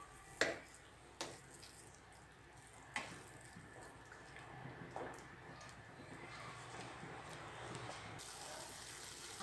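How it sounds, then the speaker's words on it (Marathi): Water pours from a vessel used for grinding masala into frying masala in a pan while making restaurant-style matar paneer, a soft gushing splash with a few clinks of utensils, faint and close. "आता मी ह्यामध्ये थोडं पाणी घालून, वाटणाचंच पाणी थोडं"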